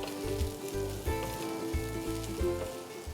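Chopped shallots fry in masala in a pan for a Kerala-style yam pollichadu, giving a steady, close sizzle with a soft rhythmic low pulsing underneath throughout.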